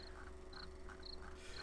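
Crickets chirp in a video game, short high-pitched trills repeating at a steady rhythm about every half second over a constant low background hum.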